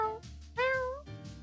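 A person imitates a cat with three close, clear meows, the middle one longest and loudest, with nothing else heard around them.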